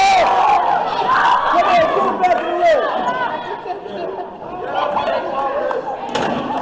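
A wrestling event crowd erupts in pandemonium, loud and close with overlapping shouts, chatter and cheers, as voices rise and fall across the whole stretch.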